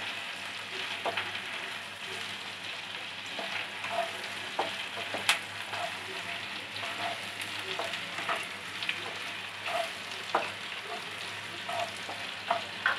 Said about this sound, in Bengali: পেঁয়াজটা একটু ভাজা ভাজা হয়ে গেলে তারপর আমি আদা রসুনের পেস্টটা দেব